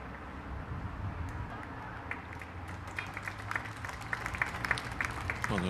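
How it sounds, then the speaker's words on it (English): Spectators at a women's pairs bowls final applauding a close bowl, scattered clapping that builds in the second half, fairly quiet and distant, with a little murmuring. "a round of applause, so she must be close."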